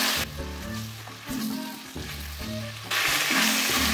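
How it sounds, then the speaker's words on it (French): A minced fish mixture sizzles and fries in a pan while it is stirred. The loud crackling frying holds throughout, broken by a few scraping stirs, with no talking. "Et je mélange tout simplement. Je mélange bien."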